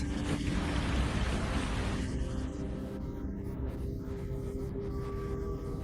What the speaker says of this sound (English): More rain and wind.